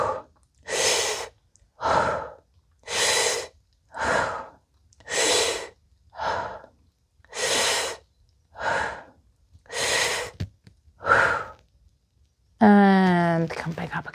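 Heavy, rhythmic breathing during a fascial stretching exercise: about ten loud, evenly spaced breaths, each a strong airy rush of a second or so, followed by a brief higher-pitched voiced sound at the end.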